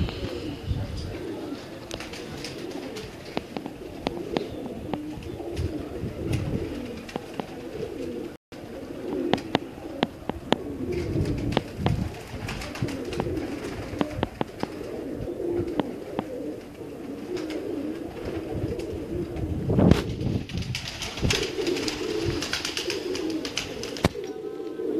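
Pigeons being readied for the racing season coo on a rooftop loft in Kasur, a dense, continuous chorus of overlapping calls with scattered wing flutters and clicks, close and fairly loud throughout.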